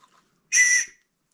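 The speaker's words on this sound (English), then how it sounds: "If you ever get in trouble, you know, hopefully you can still blow a whistle." A safety whistle clipped to a fishing vest gives one short, shrill blast lasting about half a second, close and clear against silence.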